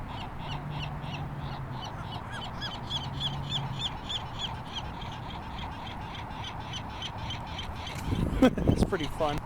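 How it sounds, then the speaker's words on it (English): Gulls call along the Mission Bay shoreline in San Diego, repeated harsh cries at moderate distance over steady wind and surf, with a louder burst of calls near the end. "Gulls are gonna gull."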